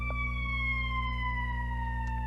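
An ambulance siren wails steadily as it passes at a distance, its tone sliding slowly lower over a constant low background hum.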